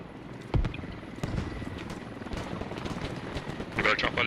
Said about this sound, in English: We got a chopper landing.